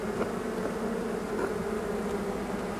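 A dense, steady hum of many honey bees buzzing close by, a continuous droning swarm with no talking.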